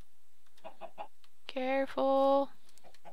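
Chickens in the video game Minecraft give several soft clucks followed by two louder, drawn-out bocks, close by, while a player briefly speaks.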